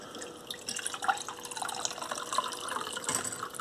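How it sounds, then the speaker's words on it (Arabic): Hot water poured into a mixture of oils and ingredients for a drink, a light trickling and splashing of liquid into a container, close and fairly quiet, continuing in uneven spurts. "نحط فوق ماء ساخنة شوي"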